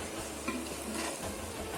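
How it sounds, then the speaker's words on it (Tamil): Chicken pieces fry with spicy masala in a pan while being stirred, a close, steady sizzle with soft scraping of the spoon and a light clink of metal. "இப்போ கறியை போட்டு இந்த மசாலாவோட சேர்த்து பரட்டிக்கலாம்."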